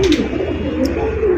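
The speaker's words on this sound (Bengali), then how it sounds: "যারা সাদা গোল্লা কবুতর নিতে চান ডাকটা শোনেন।" A white golla pigeon coos in a low, wavering, continuous call, loud and close, with no voices.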